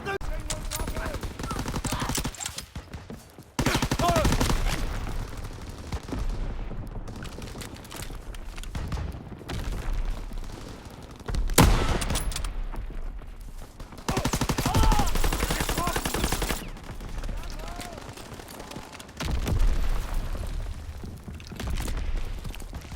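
A flak gun fires in a World War II battle from the Call of Duty WW2 game, loud, dense bursts of gunfire rolling almost without a break, with distant booms and voices in the mix.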